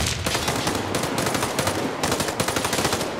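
Rapid automatic gunfire in the online shooter Warface rattles on without a break, loud and dense, as a continuous fusillade with no voices over it.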